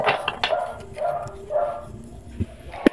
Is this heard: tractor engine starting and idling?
no